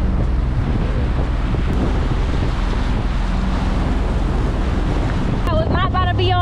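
A speedboat runs over choppy ocean water with heavy wind buffeting the microphone and a constant loud rush of engine and spray. A voice breaks in briefly near the end.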